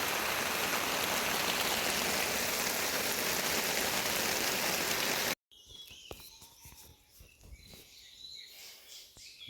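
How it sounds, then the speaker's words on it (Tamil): Heavy rain pours steadily near Munnar during a honey-collecting outing, a dense roaring wash for about five seconds before cutting off abruptly into quieter outdoor ambience with scattered drips and faint birds. "நல்ல மழை."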